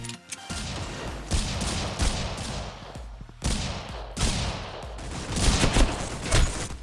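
Desert Eagle pistol fire in a video game: a continuous run of loud, closely spaced shots and impacts, with brief gaps between bursts and no talking.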